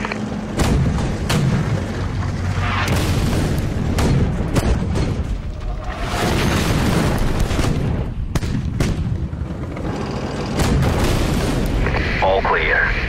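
Artillery fire in the tank video game Armored Warfare, heavy booming blasts and rumbling explosions repeating through the scene, with radio-style voices talking over it.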